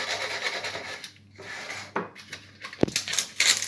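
Dry semolina mix being spread with a spoon in a baking pan for a semolina apple cake, giving a soft irregular rubbing and scraping with a couple of sharper spoon-on-pan clicks, close and fairly quiet.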